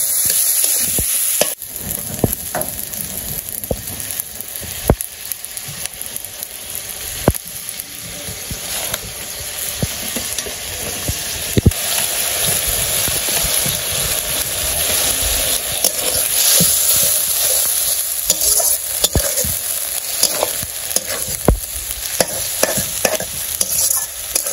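Ground spices, including coriander powder, being fried and stirred in a pan in a village kitchen: a close, loud, continuous sizzle with frequent scraping stirs and clicks, and no talking.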